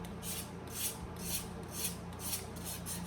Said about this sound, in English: I basically take a sheet of very fine sandpaper and I begin to rub the surface off to reveal the high points